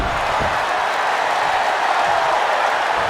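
A large arena crowd at SmackDown in WWE 2K22 cheers loudly, a constant, dense roar of voices and applause with no breaks.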